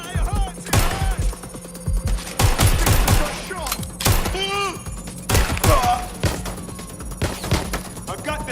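Gunfire in the video game Watch Dogs: Legion, with loud bursts of shots and thuds in quick clusters over a steady electronic hum, mixed with shouted and pained game voices.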